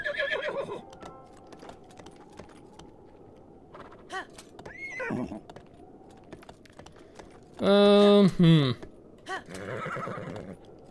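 A horse in the video game The Legend of Zelda: Breath of the Wild neighs loudly in a shrill, wavering whinny, with hoofbeats clopping and softer background sounds around it.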